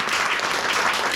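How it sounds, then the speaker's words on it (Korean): Audience applause fills a seminar hall after a cosmetics company announcement at a Busan evening business seminar, a dense steady wash of clapping from many hands, close and continuous without talk. "박수 한번 주세요."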